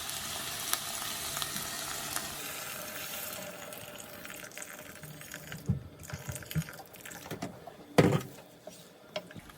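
Steady frying sizzle of lentils and rice in a pot fills the first seconds, then hot water is added and it settles into a lower watery hiss with clinks and stirring knocks, one sharper clatter near the end.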